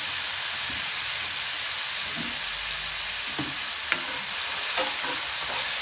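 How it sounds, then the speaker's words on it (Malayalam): Sliced onions fry in plenty of coconut oil in a pan for a mutton dish, giving a steady, dense sizzle with occasional soft stirring scrapes and clicks, up close, with no talking. "ഇത് സാധാരണ ഉള്ളിമുളക് മൂപ്പിച്ചെടുക്കുന്ന പോലെ തന്നെ പകുതി മൂപ്പാകുമ്പോൾ"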